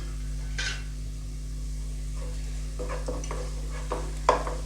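Onions frying with turmeric powder in a pan for Andhra-style chitranna, a quiet sizzle broken by several short spatula scrapes and stirs over a steady low hum.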